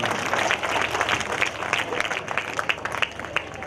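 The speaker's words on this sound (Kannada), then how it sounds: "ಚಪ್ಪಾಳೆ ಹೊಡಿರಿ ದಯಮಾಡಿ" Audience applause at a stage event: a dense, steady wash of many hands clapping that fills the whole stretch at an even level.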